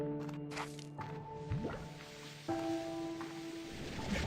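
Water sounds from the video game Slime Rancher: soft splashy, drippy tones over layered synthetic game ambience with some sliding tones, faint and lasting a few seconds, with no speech.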